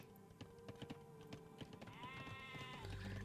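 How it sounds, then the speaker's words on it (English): Sheep bleating in the Age of Empires strategy game, a single drawn-out bleat near the end over busy game effects, clicks and background music. "I like that Green is taking his sheep to the right side"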